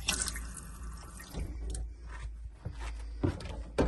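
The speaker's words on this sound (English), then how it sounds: "We'll just put the pump on. And we've got hot and cold water." Water splashing from a tap into a sink in a 2003 Autosleeper Symbol Dorset motorhome with the pump on, an uneven running and dripping sound close by with a few clunks.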